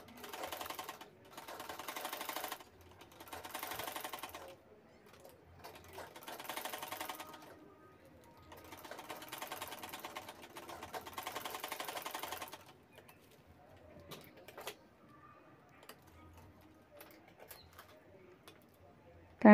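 A sewing machine stitches a zipper onto a handbag in rapid mechanical bursts of several seconds each, separated by pauses, with faint pigeon coos in the background and no talking.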